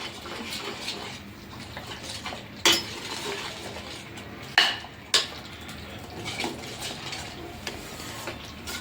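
A utensil stirs butter and garam masala in a pan for kaju matar masala, a Punjabi cashew and pea curry, making soft scraping over a faint sizzle, broken by a few sharp metallic clanks against the pan.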